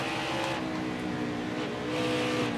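Race car engines from the video game NASCAR Heat 4, running at Kansas, give a continuous, fairly faint high-pitched whine that swells slightly near the end.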